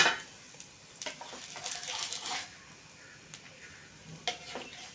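Soft, steady sizzling of a wheat-flour peanut almond poli flatbread frying in ghee on a hot griddle, with faint clinks and scraping of a utensil now and then, close by.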